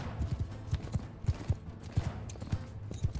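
Horses gallop in the Mount and Blade Bannerlord battle game, a quiet, rhythmic clip-clop of hooves pounding in repeated quick clusters at a moderate distance, with no voices over it.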